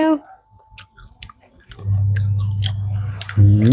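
Biting into and chewing crispy KFC chilli cheese fried chicken outdoors in the sun, with a few crunchy bites up close followed by a loud steady chewing and munching stretch, and brief talk at the start.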